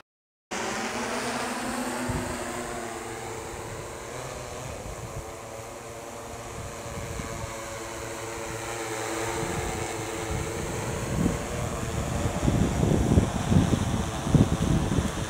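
A UAV drone hovers with a steady, close, buzzing rotor whine and layered harmonic hum, then grows louder and rougher with bursts of wind rumble and thumps as it comes down to land.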